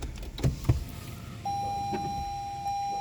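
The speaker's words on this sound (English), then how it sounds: "The seat and the steering wheel will automatically retract" Electric motor whirring steadily for about a second and a half as the seat and steering wheel of a 2014 Lexus ES350 automatically retract after the V6 engine is shut off, following a few soft interior clicks and thumps.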